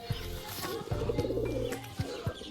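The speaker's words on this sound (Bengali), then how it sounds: "আর এই খাঁচাতে আরও একজোড়া নতুন পায়রা আছে" Rajshahi pigeons cooing close by inside a cage in soft, low repeated murmurs, with a few light taps and rustles around them.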